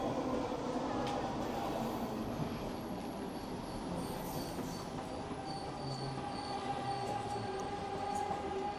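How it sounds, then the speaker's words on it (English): A Vancouver SkyTrain pulls into the station with a steady rumble, faint wheel squeal and rail noise that fills the whole stretch, plus scattered crowd sounds around the platform. "The SkyTrain has arrived."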